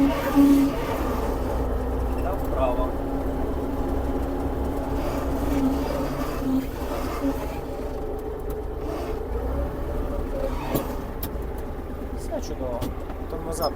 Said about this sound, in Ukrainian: трактор починає обертатись на місці